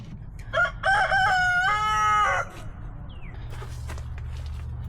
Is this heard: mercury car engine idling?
no